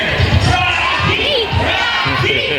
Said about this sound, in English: Come on, boys, let me hear your cheer.